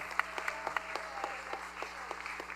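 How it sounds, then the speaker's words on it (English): A small outdoor crowd at a butter tart festival gives a round of applause for the judges, scattered hand claps fairly distant and moderate in volume, with some individual claps standing out over a low background hum. "Round of applause for our judges."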